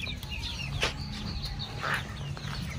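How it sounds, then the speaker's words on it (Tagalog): Chickens cluck and call in a grassy farm pen in General Santos City, several birds giving short clucks near and farther off over a steady background murmur. "Yan ang mga manok natin."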